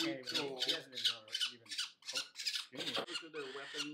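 Falcon chicks squawk during banding, giving a run of about ten loud, harsh, rasping calls in quick succession, close by, with no other sound between them.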